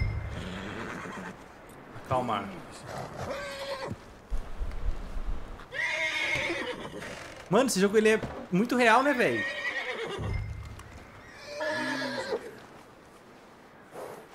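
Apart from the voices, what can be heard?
horse neighing and hooves in a video game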